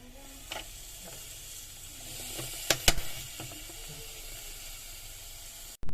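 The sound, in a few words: paneer pieces with pepper sizzling on a closed grill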